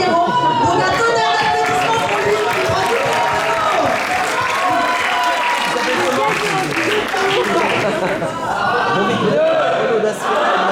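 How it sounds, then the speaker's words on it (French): Dense, continuous audience applause and cheering at an improv theatre festival semi-final, loud and sustained throughout with crowd noise and voices mixed in. "On a tonnerre d'applaudissements pour lui."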